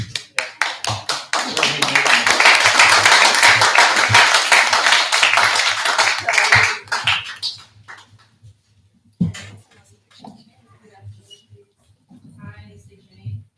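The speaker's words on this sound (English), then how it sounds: "Do we do a round of applause now or after?" Applause from a city council meeting audience, a dense burst of many hands clapping for about seven seconds before fading into scattered claps and quiet room noise.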